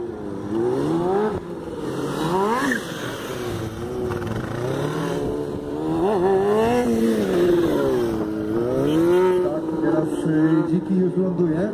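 A motorcycle works through a gymkhana course with repeated rising and falling engine revs as it accelerates, brakes and turns, moderately close and continuous.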